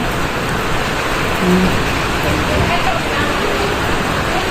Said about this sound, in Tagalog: Ang lakas pala ng ulan dito ngayon.